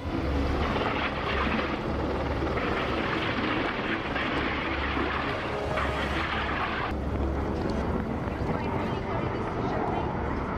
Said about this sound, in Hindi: नेटो के फाइटर जेट ऐसे ही गर्जना कर दुश्मनों को डराएंगे